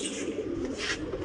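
A short, low cooing murmur comes from pigeons in a pigeon loft, close and steady, with no voices.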